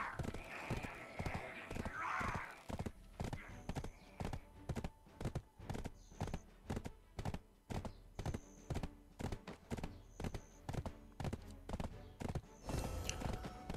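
A donkey's hooves clip-clop in a steady walking rhythm in the online game Black Desert, with a whinny-like call near the start and a brief louder bump at the end.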